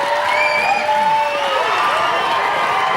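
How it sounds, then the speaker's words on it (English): Studio audience at a televised talent contest, New Zealand Idol, clapping and cheering loudly in a steady, dense burst of applause that fills the whole moment, with no one speaking over it. "Big round of applause for Miss Tonga."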